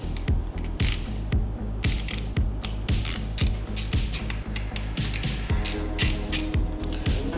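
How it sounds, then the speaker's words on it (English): A ratchet wrench clicks rapidly in a steady rhythm, close up, as bolts are loosened while fitting Bonamici rearsets to a Ducati Panigale V2 motorcycle, with no talk. "next thing you wanna do is remove these 2 bolts right over here"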